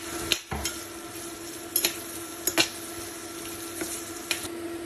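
Onion frying in oil with mustard seeds, cumin, curry leaves and a dried red chilli, giving a low steady sizzle with several sharp clinks and scrapes of a spoon against the pan, close by and without speech.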